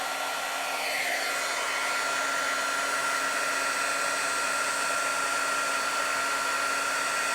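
A steady, close-up electric heat embossing gun blows a continuous hiss with a faint whine throughout, no talking.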